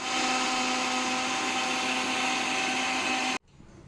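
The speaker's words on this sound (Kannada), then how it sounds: "ಇನ್ನು ಇದನ್ನು ಗ್ರೈಂಡ್ ಮಾಡ್ತೇನೆ" A mixer grinder grinds batter with salt and water, a loud, steady motor whine with a constant hum that runs for over three seconds, then cuts off abruptly, leaving faint room noise.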